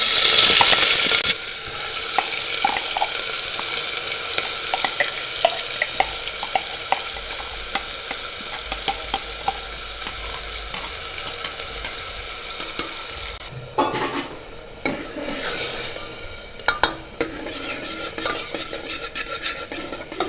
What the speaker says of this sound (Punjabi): ਹੁਣ ਆਪਾਂ ਪਾਵਾਂਗੇ ਜੀ ਪਿਆਜ਼ ਦਾ ਪੇਸਟ